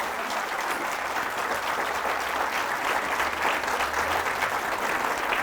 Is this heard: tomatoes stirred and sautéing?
no